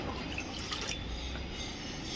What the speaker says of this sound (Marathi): बघा मी झाडांना पाणी टाकते